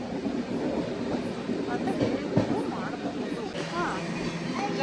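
A moving Hampi Express passenger train between Mysore and Hubli, giving a steady loud rumble with faint rhythmic rail clatter and a few high squeals, while people talk over it.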